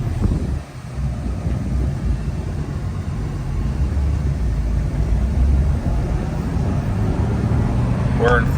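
A Jeep Wrangler Sahara engine runs in first gear while driving, a low steady rumble with road and wind noise inside the cabin, and a voice speaks briefly over it.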